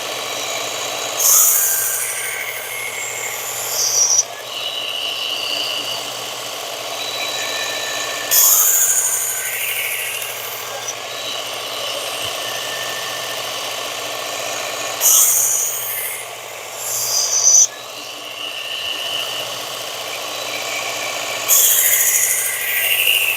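A Work Sharp belt sharpener grinds the edge of a Glock field knife in a few separate passes, each a steady buzzing, whirring burst of several seconds separated by quieter running gaps, close and fairly loud.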